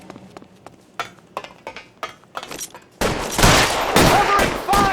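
Shootout gunfire in the video game L.A. Noire: scattered single shots early, then a sustained loud barrage of rapid overlapping shots with ricochet-like whines, close and dense.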